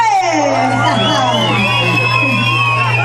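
A crowd at a Payner pop-folk concert in Kyustendil cheers and whoops for a musician carrying a large instrument. Loud, continuous crowd noise rides over a steady low hum, with shouting voices mixed in throughout.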